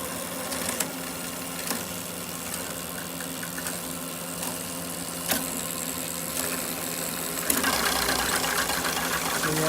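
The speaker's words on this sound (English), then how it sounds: "So yeah, it does rub the tire." A Lithium Cycles Super 73 electric bike is run through its gears on a stand, giving a steady mechanical whir with periodic clicks and a faint rubbing as the chain scrapes the tire, closer and louder near the end.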